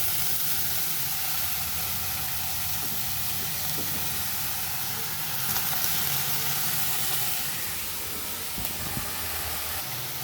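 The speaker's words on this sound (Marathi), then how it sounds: "आता यात आपण भाजी टाकूया" Fresh greens go into a pan of roasted garlic, raising a steady, broad sizzling hiss that holds evenly close by, with a few faint clinks and no talking.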